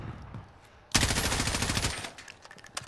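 Automatic rifle fire in the video game Call of Duty Modern Warfare, a sudden loud rapid burst lasting about a second, followed by scattered fainter shots and clatter.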